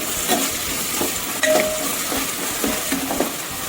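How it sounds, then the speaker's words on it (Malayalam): Onions with salt fry in a pan for squid roast, giving a steady close sizzle with occasional stirring scrapes and light clinks of a utensil against the pan, and no voices. "ഉപ്പിട്ട ഉള്ളി വേഗം മൊരിയും"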